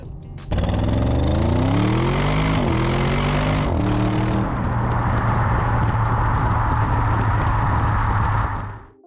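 An Audi RS6 engine and exhaust, exhaust still needing work, revs hard in several rising and falling sweeps, then holds a loud steady drone before cutting off near the end.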